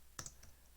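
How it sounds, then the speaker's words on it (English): Two or three quick, soft clicks of typing on a computer keyboard, close but faint, isolated with no talking. "And then let's type in play land."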